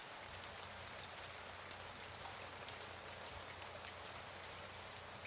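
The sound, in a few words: recording of rainfall played as background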